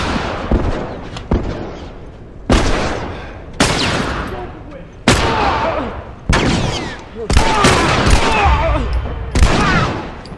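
Heavy gunfire in The Last of Us arrives as loud, close bursts of rapid shots in several long volleys separated by abrupt breaks, with talk and shouting mixed in underneath.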